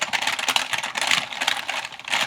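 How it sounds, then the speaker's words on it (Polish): Rapid typing on a computer keyboard, a dense, continuous clatter of quick key presses with small bursts of faster strokes, close and clear with no talking. "bo tam też trzeba szybko pisać na klawiaturze"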